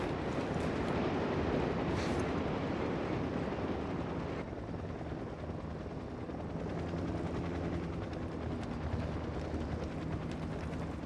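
A helicopter in the video game Ghost Recon Wildlands roars steadily and loud throughout, a dense continuous rotor drone with a brief sharp burst early on and no talk.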